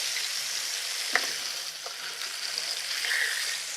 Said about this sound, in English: And we'll put all the onions in there.